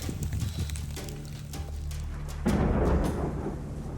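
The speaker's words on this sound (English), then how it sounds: "we've got caught in a storm and there is hail" Thunder rumbling during a hailstorm on the Humphreys Peak trail in Arizona, a loud low roll that swells and breaks into a harsher crackling burst midway, with wind and pattering hail or rain around it.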